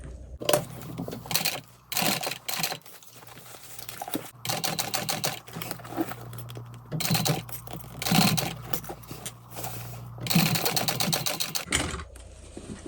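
A sewing machine stitches a handbag in repeated bursts of rapid, close mechanical whirring, starting and stopping with short pauses between runs.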